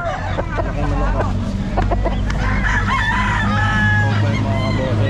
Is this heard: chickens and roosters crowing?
yes